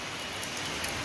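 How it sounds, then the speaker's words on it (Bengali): Rain falls steadily on a roadside stop in Sikkim, a brief, even wash of dense drops with no voices. "আর দেখো বন্ধুরা কেমন বৃষ্টি শুরু হয়ে গেছে।"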